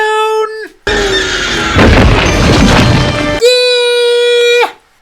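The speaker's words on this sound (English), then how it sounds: "throws the bomb so the explosion will disorient the graboid" Movie bomb explosion from Tremors, thrown at the edge of a ravine: a loud, heavy boom with a rumbling tail lasting a couple of seconds, framed by sustained tonal music before and after.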